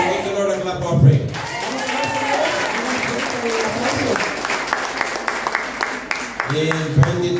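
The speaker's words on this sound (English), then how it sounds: "Give the Lord a clap offering." A church congregation bursts into sustained applause at an anniversary service, steady clapping rising and holding for several seconds with voices breaking through at the start and end.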